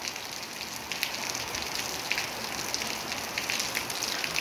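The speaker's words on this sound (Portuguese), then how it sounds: "Chuva abençoada aqui em Acaraú." Steady rain falls in Acaraú, a soft, continuous hiss of drops striking surfaces with faint scattered patters, no voices.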